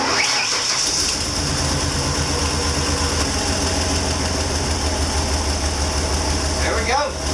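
A Ford E250 Econoline van engine cranks and catches, then settles into a steady, loud idle with a low rumble that runs unbroken to the end.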